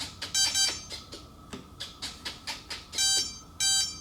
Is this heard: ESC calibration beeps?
yes